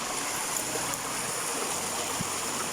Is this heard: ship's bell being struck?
no